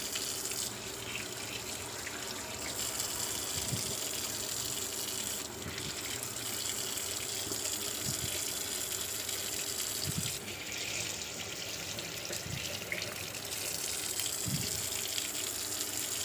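Tap water runs steadily into a sink over freshly washed raspberries and blackberries, a continuous close gushing stream with a few soft knocks and splashes as the berries are handled.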